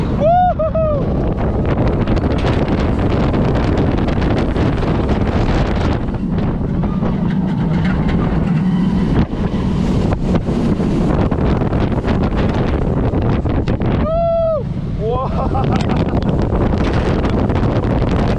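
Wind roars continuously past the microphone on the Mako roller coaster, a loud steady rush with brief faint screams rising through it.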